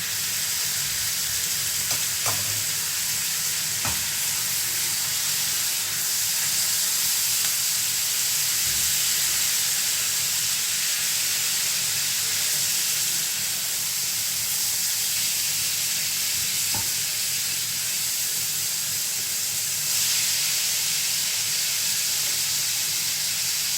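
Chicken and onions frying in a pan give a steady, even sizzle with soft hiss throughout and a few faint clicks of stirring, close by with no talking.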